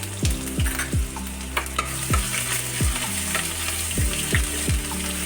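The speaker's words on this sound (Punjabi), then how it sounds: "ਆਪਾਂ ਅਦਰਕ ਪੇਸਟ ਤੇ ਲਸਣ ਦਾ ਪੇਸਟ ਤੇ ਇਹਨੂੰ ਆਪਾਂ ਹੁਣ ਵਿੱਚ ਭੁੰਨਦੇ ਹਾਂ ਚੰਗੀ ਤਰ੍ਹਾਂ" Cumin with ginger and garlic paste roasts in hot oil in a pan, sizzling loudly and steadily as a spatula scrapes through it in repeated quick strokes, close up and without speech.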